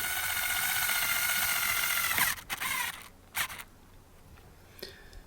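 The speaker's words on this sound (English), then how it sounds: "Screw these ones down. Again, all pre-drilled holes," A power driver spins screws into pre-drilled holes on an eDecks Atlas timber gazebo, one long steady whirr that stops abruptly, then a few short bursts and clicks close by.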